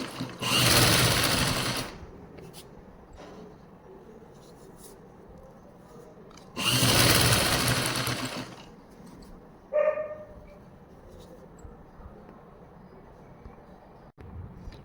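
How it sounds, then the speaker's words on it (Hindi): A sewing machine stitches Afghani trouser fabric in two loud, close bursts of rapid whirring a few seconds apart, with quieter handling sounds, a brief tone and a faint click between them. "अब ये सिलाई लगा दी है मैंने"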